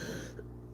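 A single short, faint cough from a person with a cough, quick and dry, ending abruptly.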